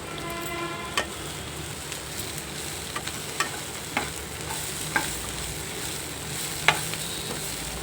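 Green peas stir-fried in a pan, a steady close sizzle with a spatula scraping and tapping against the metal at roughly one-second intervals, no voices.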